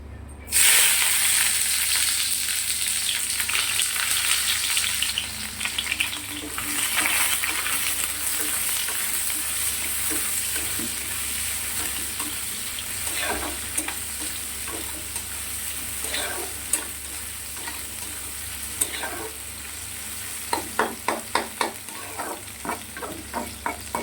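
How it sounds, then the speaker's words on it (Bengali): Large chopped onions fry in hot oil in a kadai with a loud continuous sizzle and hiss, broken by spatula stirs and clinks that grow more frequent toward the end. "এখানে পেঁয়াজটা একটু হালকা ভেজে নিয়েছি"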